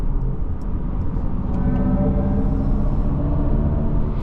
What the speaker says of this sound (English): I find these driving sounds quite interesting